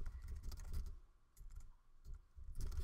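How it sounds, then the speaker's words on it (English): Computer keyboard typing up close, quick bursts of soft key clicks separated by short pauses, faint and without talk. "We're gonna type out the try us"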